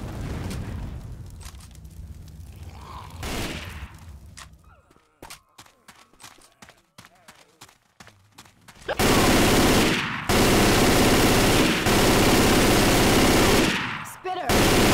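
Video game gunfire rings out as enemies are shot in a custom campaign: scattered shots and quieter moments first, then sustained loud automatic bursts near the end, with voices heard at points.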